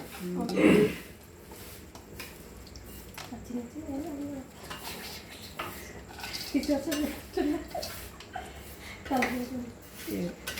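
Tamarind is stirred into tomatoes in a pot while making tomato pickle, with scattered metal spoon clinks and scrapes heard under ongoing conversation and faint bird cooing in the background.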